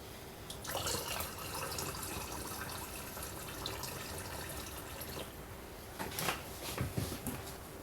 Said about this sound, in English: I'm going to fill this up with the ethanol to 250 milliliters